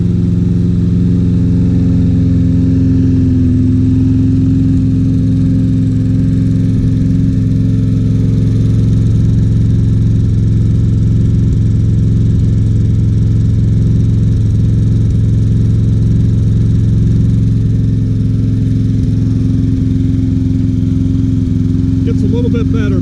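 A Troy Bilt XP 21-inch lawn mower engine, badly smoking, runs loud and close in a steady continuous drone with a constant hum, unbroken throughout.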